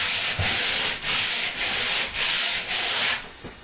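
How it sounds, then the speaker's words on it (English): Guitar fretboard sanded lengthwise with 80 grit sandpaper on a full sheet: steady, close, loud rasping strokes in an even back-and-forth rhythm, about six passes, alone with no talk. "take a full sheet of sandpaper, lay over top of that arc, inside there, and then use that to run up and down the fretboard"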